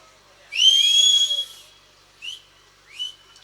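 A loud, long, sliding whistle rises, holds and drops, followed by two shorter whistle blasts. It happens on a stage during a Tamil village drama performance, with no talk over it.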